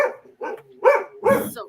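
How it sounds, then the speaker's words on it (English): Dogs bark in four short, loud, close bursts, the middle two spaced about half a second apart and the last one longer and rougher. "I get everybody barking."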